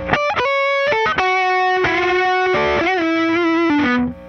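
A distorted electric guitar plays a lead lick: quick articulated notes at first, then a sustained bent and vibrato-laden note sliding down before cutting off, loud and alone.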